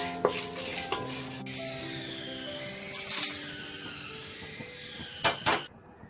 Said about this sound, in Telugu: ఎండబెట్టుకున్నటువంటి మిరపకాయలను వేసి వేయించుకోవాలి.